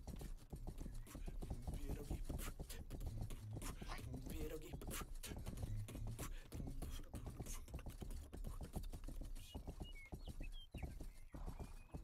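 Horse hooves clip-clop in a steady, quick rhythm in the video game Rustler, and a voice talks over them throughout.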